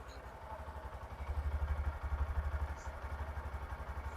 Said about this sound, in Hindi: अब आपको इसका इंजन का जो साउंड है वो सुनाते हैं